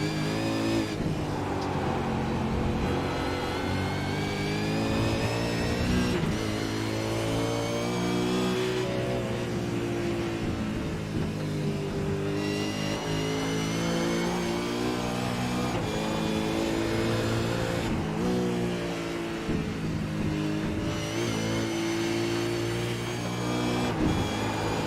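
A Supercar in the iRacing sim races with a loud, steady engine drone that rises and falls through the gears, with tyre squeal through the corners, continuous and close throughout.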